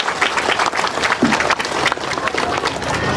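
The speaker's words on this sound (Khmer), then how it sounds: "សូមសម្លេងអបអរសាទរ" Crowd applause at an outdoor road inauguration ceremony in Kampong Speu province, brisk and fairly loud clapping from many people, continuous with slight uneven surges.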